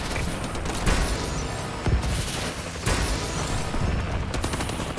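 Friendly missile strikes in a multiplayer shooter game, several loud booming explosions in quick succession over a constant din of gunfire.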